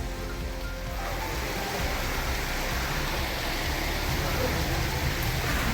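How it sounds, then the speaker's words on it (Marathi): Steady, hissing rainfall at a college fills the whole stretch, a dense even wash of noise with no pauses. "बघा अजून जोरात पाऊस चालू झालेला आहे"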